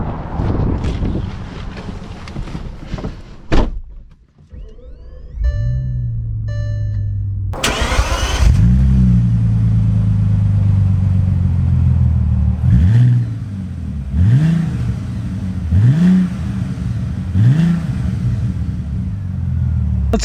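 Bentley Continental Supersports, a 600+ horsepower car, starts up and pulls away, its engine swelling in a series of rising revs through gear changes, loud and close with wind buffeting in the background.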